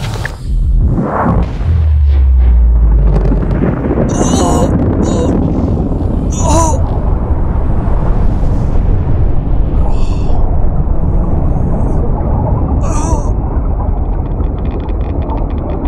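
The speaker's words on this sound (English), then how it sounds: "A second explosion?" Dark matter reactor detonation in the video game Subnautica: a loud, sustained low rumble that holds steady throughout, with brief higher metallic bursts and crackles layered over it.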